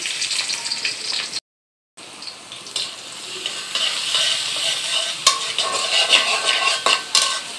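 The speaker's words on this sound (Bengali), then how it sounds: "চুলায় তেল গরম হয়েছে, কাঁচামরিচ পেঁয়াজ দিলাম।" Green chillies and onion hitting hot oil in a pan, a loud hissing sizzle with a brief dropout early on, then steady frying with intermittent stirring scrapes that grow busier toward the end.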